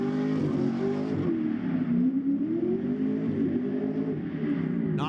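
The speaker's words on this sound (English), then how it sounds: "Firing off all those V8 cylinders." A V8 drift car's engine revs hard during a SPEC-D Pro Drift Series qualifying run, a steady loud roar with wavering pitch as the throttle swings through the corner, with no one speaking.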